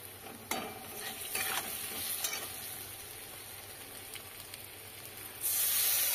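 Potato pieces and green chillies fry in a pan, giving a steady soft sizzle with a few scraping stirs near the start and a brighter hiss surging near the end, close by and without speech.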